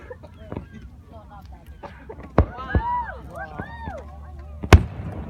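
Canada Day fireworks over Steveston in Richmond, 2016, bursting as a few sharp, loud bangs spaced apart, with people chatting in the background.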